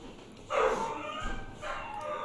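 A dog named Roscoe, excited by a cat, gives a pair of yelping, whining barks at close range, each a short strained cry with a quieter pause between them.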